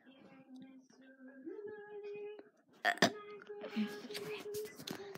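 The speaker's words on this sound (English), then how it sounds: "That's all for my burping." A long, drawn-out burp with a low droning tone that shifts pitch midway, followed by a sharp burst of noisy sound, fairly close.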